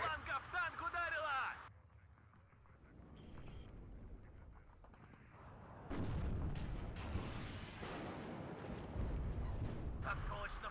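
Heavy booming impacts and rumbling blasts of a shell striking a tank in the video game WARNO, with distant firing and low rumble; voices talk over parts of it.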